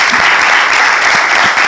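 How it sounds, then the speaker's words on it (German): Audience at an indoor equestrian show politely applauding, a steady, even patter of many hands clapping without cheers, close and fairly loud. "Wird nur höflich geklatscht und nicht gejohlt."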